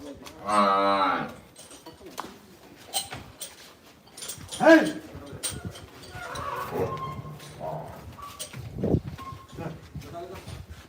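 Murrah buffaloes moo loudly nearby, several deep drawn-out calls spread across the clip, with people talking in between and over them.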